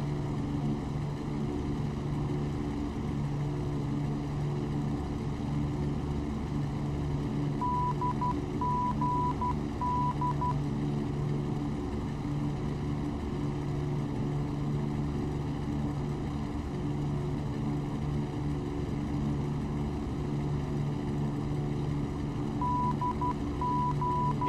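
Steady aircraft engine drone in the flight game Air Hauler 2, a constant low hum with short beeping tones now and then, no talking.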